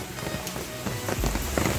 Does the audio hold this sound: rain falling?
yes